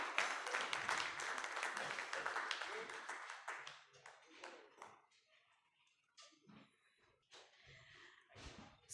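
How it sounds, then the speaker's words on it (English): Applause from a group at a physicians' conference claps steadily for several seconds, then fades into scattered claps and quiet background sounds. "A great applause to all the PGs for putting up such a great show."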